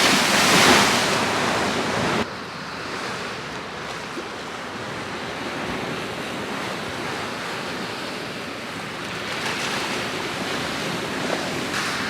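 Sea swell washing onto the shore at Totland beach on a calm evening, a steady close hiss of surf with mild wind noise on the microphone, louder at first then settling.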